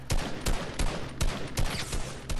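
Pistol shots in a multiplayer video game firing in a quick series of about six sharp reports at a steady rhythm, close and loud over background game noise.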